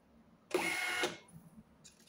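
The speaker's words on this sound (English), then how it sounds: "Okay, test page has been printed successfully." An Xprinter XP-365B receipt printer runs off a test page in one brief, dense burst of whirring thermal printing lasting about half a second, followed by a faint click and a small rattle.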